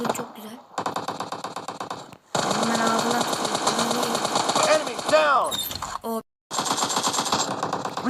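Rapid automatic gunfire in PUBG Mobile, long bursts of dense cracking shots broken by short silences, loud and close, with a person talking over the game sounds.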